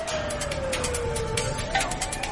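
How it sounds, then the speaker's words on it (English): An ambulance siren wails steadily, its pitch slowly sweeping down and back up, heard at moderate distance over traffic rumble. "The ambulance was rocketing across town"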